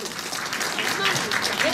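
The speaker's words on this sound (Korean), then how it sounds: "여러분들 다시 한번 뜨거운 박수 좀 부탁드리겠습니다." Audience applause for a military band after its performance at an outdoor enlistment culture festival, a steady broadband wash of clapping with voices mixed in underneath.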